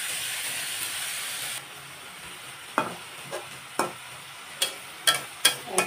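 Chopped leafy greens fry with shrimp in a pan: a steady sizzle at first, then quieter frying marked by repeated sharp scrapes and knocks of a spatula stirring at an even pace.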